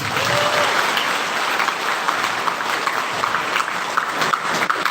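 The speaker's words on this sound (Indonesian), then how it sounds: "Mari kita tepuk tangan." Applause for Mayor Ridho Yahya at a university orientation event, a sustained, even crowd clapping that fills the hall steadily with no voices over it.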